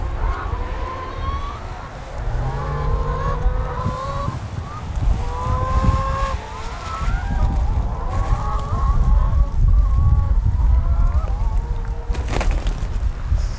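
Chickens in a backyard coop cluck and murmur in short, wavering calls over a constant outdoor rumble, moderately close and continuing throughout.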